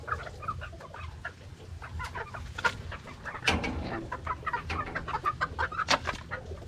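Young pure Sweater gamefowl cluck and chatter close by in a busy, irregular flock, with sharp individual calls popping out over the steady clucking.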